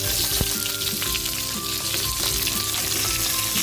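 Steady, dense sizzle of fish frying in hot oil, loud and close, with faint crackles and pops throughout.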